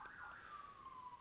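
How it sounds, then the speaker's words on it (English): Ambulance and police sirens outside in a city neighborhood, a single steady wailing tone gliding slowly downward as it passes, moderately distant and continuous throughout with no talking. "And you can hear ambulances in the background right now."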